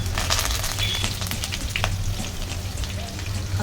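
Cumin, garlic, green chilli and curry leaves fry in hot oil in a pan, giving a continuous close sizzle and crackle with occasional sharp pops and spoon scrapes.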